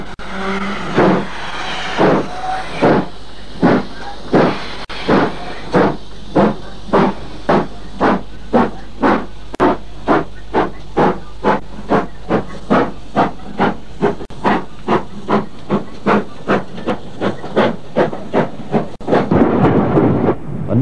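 British steam locomotive at Swindon, loud and close, beating out rapid, evenly spaced exhaust chuffs with hissing steam between them, ending in a broad rush of steam.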